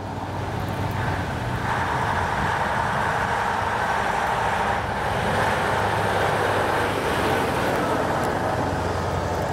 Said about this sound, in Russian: Четыре машины идут одна за одной.